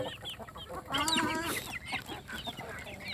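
Chickens on a Thai farm cluck and squawk busily at close range during morning feeding with herbs, a chorus of overlapping calls that peaks in a louder burst midway.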